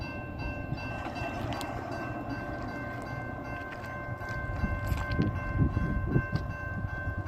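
A CSX freight train rumbles steadily past, with a sustained multi-tone K5LA horn chord held faintly over the rolling noise and brief knocks near the end.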